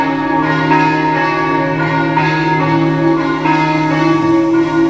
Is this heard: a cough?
no